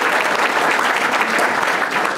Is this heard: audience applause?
yes